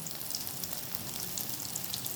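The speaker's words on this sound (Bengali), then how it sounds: "মিডিয়াম হিটে রেখে বলগুলোকে ভেজে নিচ্ছি" Paneer kofta balls frying in oil over medium heat, a steady, soft, close sizzle with fine crackling that continues evenly throughout.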